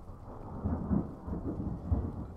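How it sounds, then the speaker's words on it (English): Rolling thunder from a nearby storm, a low continuous rumble with swells and heavier cracks, heard alone without talk. "Thunder!"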